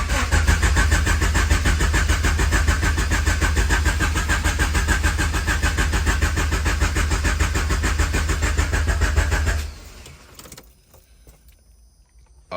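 Turbocharged Honda H22 engine in a CB7 Accord cranks and fires, running loud and rough for about ten seconds before shutting off, leaving faint clicks and rattles; no talking.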